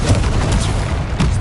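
Repeated booming blasts from spells cast in combat in Hogwarts Legacy, dense and loud throughout with a stronger burst near the end, no voice over it.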